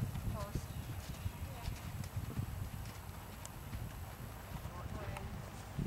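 A horse trots during a riding lesson, its hooves giving a steady clip-clop rhythm under an instructor's ongoing talk.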